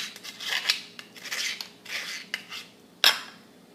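A spoon stirs curd into warmed milk in a bowl, making a string of rhythmic scraping strokes close by, ending with a sharper metallic clink; no talking.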